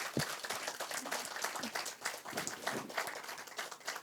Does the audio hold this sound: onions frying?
no